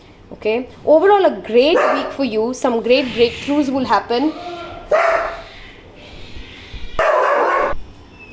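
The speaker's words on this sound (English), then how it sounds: "Apologies, that was the dog and the cat." A dog barks and yips in a rapid string of sharp, close barks, then a few more scattered barks follow, briefly overlapping with a person talking.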